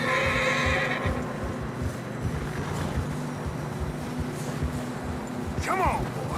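Horses in Red Dead Redemption 2 whinny loudly at the start and again near the end, with plodding hooves on fresh snow continuing in between.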